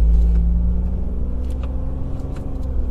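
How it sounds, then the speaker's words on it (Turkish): A 2020 Opel Astra hatchback with a 1.5-litre 122 hp diesel and nine-speed automatic pulls away in manual mode, its low steady engine rumble heard from inside the cabin with small shifts in tone as it moves up through the gears. "Mesela şu anda manuel moddayım ve araç ikinci viteste kalkış sağladı. Üçüncü vitesi attım."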